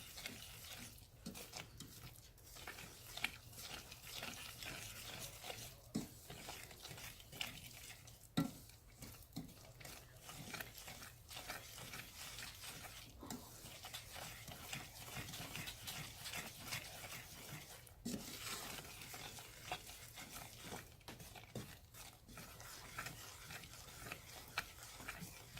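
Butter and sugar are stirred in a pan for a mac and cheese and bacon dinner, giving faint, steady scraping and light clicking from the utensil throughout, with no one talking.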